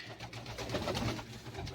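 A pigeon coos softly in its coop, a low throaty rolling call that is close and steady across a short stretch with no talking.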